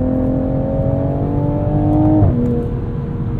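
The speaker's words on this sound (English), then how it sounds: "It sounds like a Supra." A 2021 Toyota Supra 3.0 engine drones steadily from the cabin, its tone rising slowly before dropping abruptly as it shifts, loud and close with no talk.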